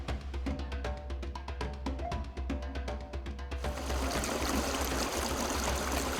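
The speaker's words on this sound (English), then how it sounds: "Water." Water trickles and gurgles in a small stream, a steady close splashing flow that swells louder partway through.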